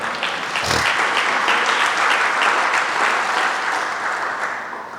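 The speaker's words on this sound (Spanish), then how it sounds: "¿Cuántos le regalan un aplauso?" A church congregation bursts into sustained applause that swells quickly and holds steady for several seconds before tapering slightly, dense and fairly close, with no talking over it.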